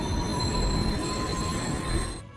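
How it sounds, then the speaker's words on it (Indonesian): Train slowing to a stop in a film scene, a steady metallic wheel squeal with high sustained tones over heavy rumbling, loud and continuous before cutting off abruptly near the end. "Tiba-tiba kereta berhenti."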